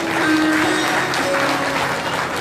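An audience claps together during a Srimad Bhagavatam katha in Garhi, Delhi, a dense, steady patter of applause heard close and with no voice over it.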